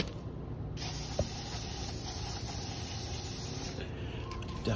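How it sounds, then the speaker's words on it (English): Lubricant sprayed from an aerosol can onto the suspension parts of a lifted Ford truck, a steady loud hiss running almost the whole time with a brief click near the start. "So I'm just gonna go and spray all of these down"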